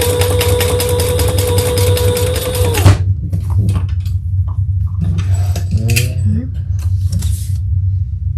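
Sewing machine stitching a crossbody bag, a loud steady whirring run for about three seconds that stops abruptly, followed by quieter handling clicks and rustling of fabric.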